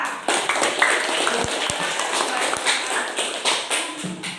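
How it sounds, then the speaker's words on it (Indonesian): Grade five pupils clap in a classroom, a brisk scattered patter of small hands with a few sharper thumps, close and lively, with a faint voice underneath. "kita kasih tepuk tangan untuk kita"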